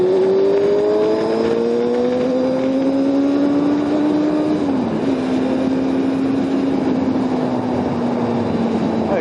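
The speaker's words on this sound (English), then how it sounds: "I'm going to pass this truck first." Car engine pulling hard to overtake a truck on the road, a steady rising drone that dips briefly partway through and then holds strong, loud and continuous without talk.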